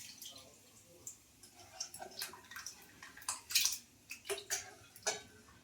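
Mung dal lentils are tipped into a pot of hot water for a dal with bottle gourd, giving soft splashes, drips and light clinks of a utensil in irregular bursts, fairly quiet and close, with no voice.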